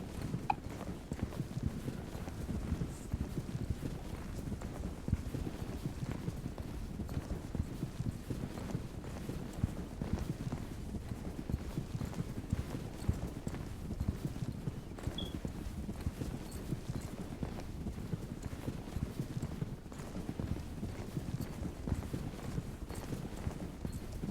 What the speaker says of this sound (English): Let me text Captain real quick while my horse is running.